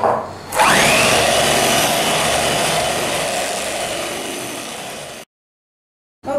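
Electric mixer whirring steadily at high speed through a batch of chocolate buttercream with milk added, loud and continuous for about five seconds before cutting off abruptly.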